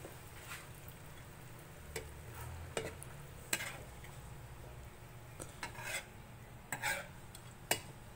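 Meatballs fry quietly in a pan with a faint steady sizzle, broken by scattered clicks and scrapes of a utensil stirring against the metal, with no talking.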